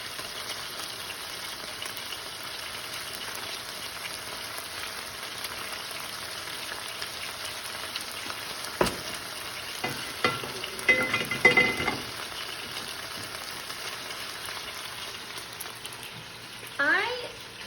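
Zucchini fries in oil in a hot pan with a steady, close sizzle. A few louder clinks and scraping touches break in midway, and a short clatter comes near the end.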